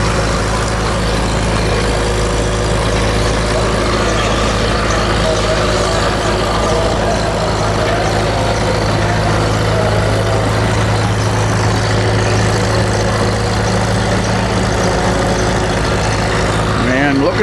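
Pulling tractor engine roaring at full load during a county fair tractor pull in Clinton County, a steady loud drone with heavy rumble throughout, with an announcer talking over it.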